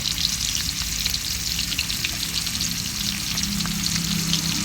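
Fish pieces fry in hot oil in a pan for a village-style fish curry, giving a dense, continuous close-up crackle and sizzle that holds steady without a break.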